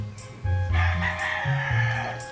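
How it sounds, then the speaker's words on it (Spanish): A rooster crows loudly and close by, one drawn-out call standing alone over faint background noise. "No callan los gallos, ¿eh?"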